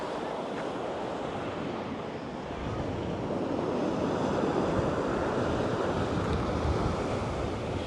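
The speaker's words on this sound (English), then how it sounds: "I just love the sound of the ocean." Ocean waves roll steadily onto the shore at the seaside in Withernsea, a broad continuous surf wash mixed with wind buffeting the microphone, growing slightly louder partway through, with no voices.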